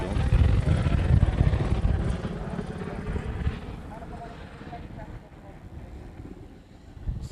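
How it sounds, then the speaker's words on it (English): An Asiana Boeing 777 airliner departing Honolulu passes overhead with a deep, rumbling jet roar that is loudest at first and then slowly fades as it moves away. "So this is the Asiana Triple."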